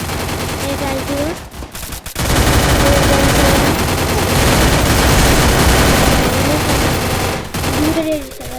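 Rapid bursts of automatic gunfire and single shots crackle loudly through a Free Fire match, dense and continuous after a short lull, with a voice speaking briefly over the game action.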